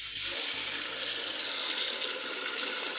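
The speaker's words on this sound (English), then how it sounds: "We're going to pour water on it." Water pours steadily in a continuous splashing stream onto an OPPO Reno 13 F smartphone during a durability test, close and loud with no talk.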